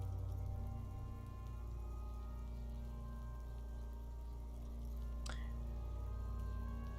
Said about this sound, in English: It's raining outside, light drizzle.